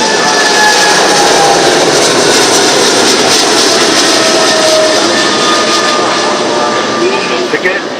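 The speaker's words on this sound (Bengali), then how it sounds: "দেখতে পাচ্ছেন এই যে বিমানটি ইতিমধ্যে রানওয়েতে এসেছে এবং আকাশে" A passenger airplane bound for Dhaka takes off from the runway, its jet engines giving a loud, continuous roar that holds steady for about eight seconds.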